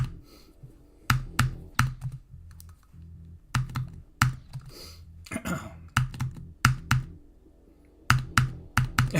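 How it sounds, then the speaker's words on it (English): Someone types on a Razer Huntsman V2 keyboard, producing bursts of crisp, close key clicks in uneven clusters separated by brief pauses, fairly quiet overall with no voices. "Keyboard. I'm using a Huntsman V2. Razer Huntsman V2."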